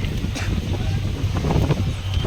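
Strong wind gusting across the deck of a river launch boat during a storm with dust blowing, buffeting the microphone in an uneven roar, with a faint voice now and then.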